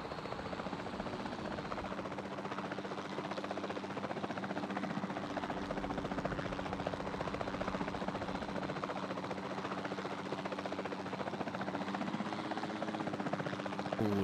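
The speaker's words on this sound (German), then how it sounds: "Wir machen wieder den Helikopter hier." Steady, loud helicopter rotor and engine drone from the video game Jurassic World Evolution 2, continuous throughout with no pauses.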